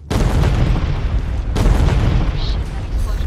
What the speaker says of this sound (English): that explosion's right above us